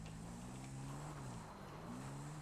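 A car in the FiveM mod of GTA V drives up with a steady, fairly loud engine drone whose pitch wavers and climbs slightly across the whole stretch, heard alone without talk.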